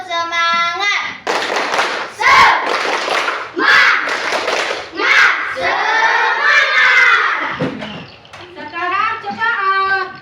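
A primary school class performs a rhythmic spirit clap, children's voices chanting together with bursts of group clapping in a patterned beat, loud and close in the classroom.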